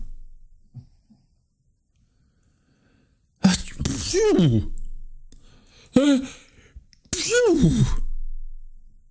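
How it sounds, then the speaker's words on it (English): Three loud sneezes from a cartoon bear come in quick succession after a quiet stretch, each with a sharp breathy burst and a vocal trailing tone. "Piglet followed the sneezing sounds all the way through the wood."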